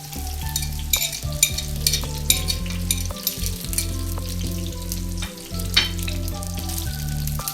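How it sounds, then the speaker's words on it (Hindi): Onions fry in a spoonful of oil for a Hyderabadi stuffed eggplant masala, giving a steady, close crackling sizzle with occasional spatter bursts over a constant low hum. "स्पून भर के हमने ऑयल लिया है, उसमें हम पहले प्याज इसको सॉफ्ट करेंगे।"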